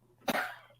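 A woman gives a single harsh cough, a short, fairly close burst that rises out of near silence and fades quickly, with no speech.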